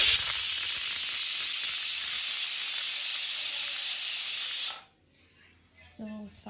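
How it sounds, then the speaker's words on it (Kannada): A pressure cooker vents steam while cooking mutton for sambar, giving a loud, steady, high-pitched whistling hiss that runs for several seconds and then cuts off abruptly, leaving quiet kitchen sounds. "ಸೊ ಫೈನಲಿ 5 ವಿಷಲ್ ಆಯಿತು."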